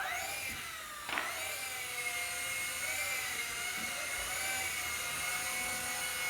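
A small Eachine E130 RC helicopter lifts off and hovers, giving a steady, high-pitched electric motor and rotor whine that holds loud and constant throughout, with a brief sharper swell near the start and no talking.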